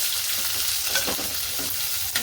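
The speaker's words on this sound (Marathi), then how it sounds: "बारीक चिरून घेतला कांदा हा टाकायचा" Finely chopped onion frying in a pan with a fish curry base, a continuous sizzle with several scraping stirs of a spoon against the pan, close and alone.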